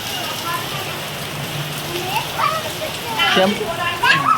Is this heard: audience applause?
no